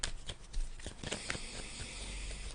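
Tarot cards being shuffled and drawn, a quick papery riffle with soft slaps and flicks, close and fairly quiet, with no talking over it.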